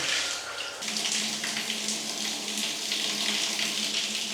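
Bathroom basin tap running at mains pressure, a steady, loud hissing rush of water splashing into the sink that continues without a break.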